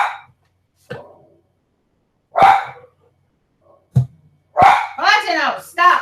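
Puppy barking indoors, several sharp, loud yaps spaced irregularly with pauses between them, then a quick cluster of excited barks and yips near the end.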